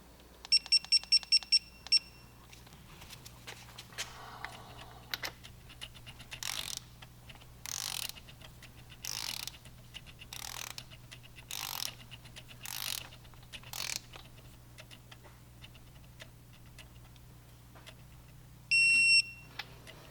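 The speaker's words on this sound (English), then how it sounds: "Now we're going to go back and do our final torque." A torque wrench tightens cam bolts to 34 foot-pounds on a Harley-Davidson M8 engine fitted with an S&S cam chest kit: quiet bursts of ratcheting clicks in a steady rhythm, with short electronic beeps at the start and end.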